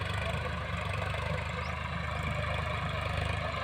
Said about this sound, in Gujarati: ટ્રેક્ટર જુઓ એકદમ પરફોર્મન્સ.